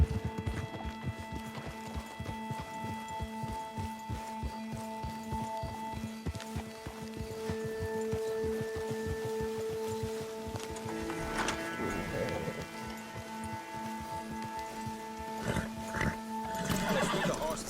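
Horses in Red Dead Redemption 2 trot with rhythmic clip-clop hoofbeats on a trail, with repeated whinnies and neighs ringing out over steady hooves and a tonal game soundscape.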